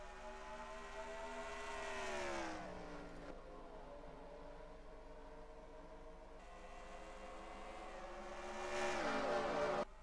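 Stock cars in NASCAR Racing 2003 roaring past on a New England oval, engine drones rising and falling in pitch as several cars pass close by, with no talk.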